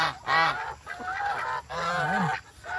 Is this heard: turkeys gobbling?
yes